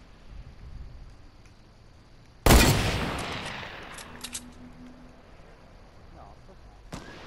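A single sharp, loud blast of video game gunfire erupts and decays in a long ringing tail, followed by a few fainter clicks and a later short crack, over low background hiss.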